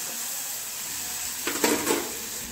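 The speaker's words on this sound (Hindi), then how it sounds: "मिक्स करने के बाद इसे भी 1 मिनट तक भूनेंगे।" Semolina mixed with sugar and turmeric is stirred and roasted in a pan, with a brief flurry of spoon scraping and light sizzle after a quiet start.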